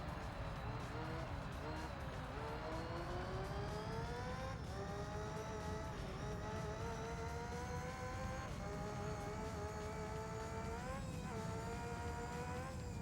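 A race car engine in the video game Gran Turismo 3, a continuous droning whine that climbs steadily in pitch with small gear-change dips, under quiet talk.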